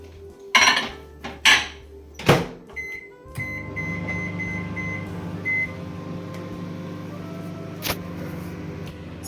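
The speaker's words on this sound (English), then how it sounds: "this dish I'm just going to put it in the microwave for 5 minutes" A microwave oven hums steadily while a covered dish of steamed prawn malai curry cooks, preceded by a few sharp clatters of the dish and door being shut, then a short beep partway through the steady drone.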